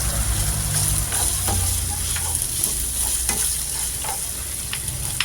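Chopped onions sizzle steadily in a hot oiled pan, a dense frying hiss broken by light stirring and scraping of a utensil.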